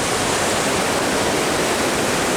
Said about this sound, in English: I don't know if the camera's picking up the noise of the river, but pretty loud.